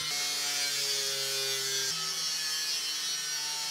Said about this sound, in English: cut it out with the angle grinder along the lines